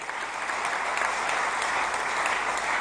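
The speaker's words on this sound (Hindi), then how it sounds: "तालियां बजाओ इस" Sustained applause from a large audience at a ceremony in Bhopal honouring the women's hockey team, a dense even clatter of many clapping hands that stays strong and steady from start to finish.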